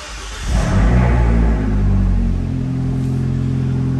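Abarth 124 Spider with a 1.4 turbocharged engine and Record Monza exhaust starts with a loud burst that swells, then falls back to a steady throaty idle rumble heard up close.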